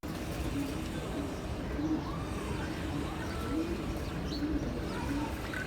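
Pigeons kept in a breeder's collection for sale coo repeatedly in soft rolling calls over a steady broadband background noise, with a faint voice murmuring now and then.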